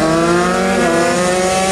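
A 130cc two-stroke underbone race motorcycle sets off at a road race in Purwokerto, its engine a loud, close, steady buzzing drone throughout.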